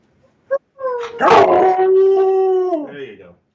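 A dog howls in one long, sustained wavering note after a short yip, loud and close, tapering off at the end.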